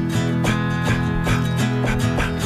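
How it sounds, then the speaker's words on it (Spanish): A political campaign jingle song for Yamandú Orsi plays loudly and continuously, a bright, harmonically rich musical passage with a steady rhythmic pulse and no talking over it. "Cómo suena el single de Yamandú"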